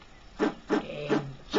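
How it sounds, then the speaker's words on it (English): An axe chops wood in Lakeview Cabin, four evenly spaced dry, crisp strikes landing in a steady rhythm, close and moderately loud. "Chopping the wood."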